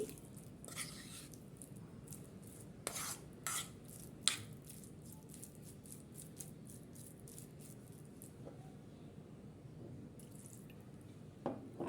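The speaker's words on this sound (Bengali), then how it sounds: "এখানে সামান্য একটু পানি দিয়ে দিচ্ছি আর পানি দিয়ে ময়দাটা ভালো করে আমি মাংসের সাথে মিক্স করে নিচ্ছি" Soft, wet squishes and occasional drips sound as water and flour are worked by hand into raw beef, faint and intermittent with a few sharper taps.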